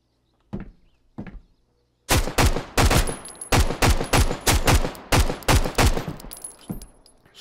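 Rapid bursts of gunfire from a weapon in the survival shooter game Road to Vostok: two isolated shots, then a long string of loud, closely spaced rounds firing in quick rhythmic succession, with no talking.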